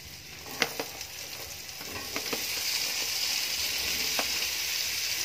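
String beans sizzle and fry in a pan for adobong sitaw, with steady hissing and a few sharp clinks of a utensil stirring them, close and fairly loud throughout.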